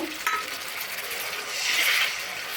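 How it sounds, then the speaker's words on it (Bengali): Ground turmeric, chili, cumin and coriander spice paste sautés with a splash of water in a pan, a close, steady hissing sizzle with a stirring scrape and a brief clink near the start. "একটু জল দিয়ে মশলাটা কষে নেব।"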